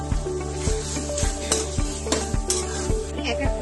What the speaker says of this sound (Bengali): এবার আমি এর মধ্যে চিকেনের কুচিগুলো দিয়ে দিচ্ছি।